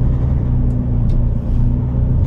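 A car engine runs with a loud, steady low rumble and hum heard close up, as if from inside the vehicle while driving toward Münchweiler, with no noticeable revving peaks across the short stretch.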